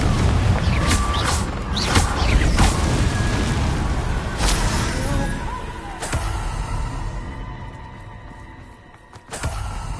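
Confringo spell explosions in Hogwarts Legacy, several sharp booming blasts and crashes in quick succession over busy game sounds, loud and close.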